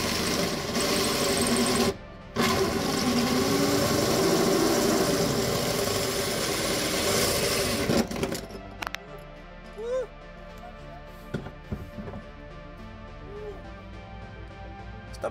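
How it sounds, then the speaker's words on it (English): A power drill bores holes for an ice tank, whirring loudly and continuously for about eight seconds before cutting off, leaving quieter scattered knocks and handling noises in the room. "Drill some holes."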